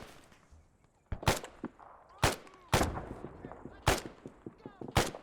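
Rifle shots in the video game Arma 3, several sharp loud cracks spaced a second or so apart, with echoing tails and quieter distant shots between them.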